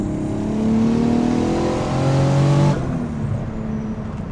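A front-wheel-drive VW Corrado with an old-school Garrett turbo revs and accelerates up close, its engine note climbing loudly through the gears before cutting off sharply and settling to a quieter idle-like hum.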